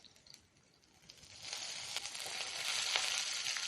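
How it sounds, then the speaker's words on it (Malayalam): Curry leaves, dried chilli and crushed garlic hit hot oil after mustard seeds pop, rising from a quiet crackle into a loud, hissing sizzle that keeps building. "ഒന്ന് ഇളക്കി മൂപ്പിക്കുക"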